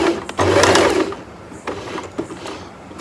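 A sewing machine stitches a kurti in a close, rapid mechanical whir lasting under a second, followed by fainter clicks and short stitch bursts.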